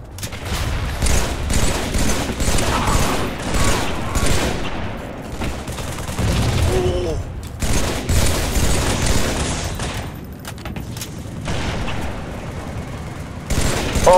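Sustained rattling gunfire crackles through a Halo match, with dense overlapping shots and muffled booms over several seconds and a player's voice talking occasionally.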